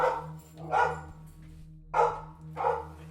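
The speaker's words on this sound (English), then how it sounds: "My darn dogs" Dogs bark in four sharp, close barks in two pairs, loud over a low electrical hum, with no talking.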